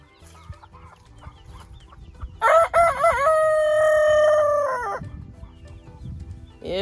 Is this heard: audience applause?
no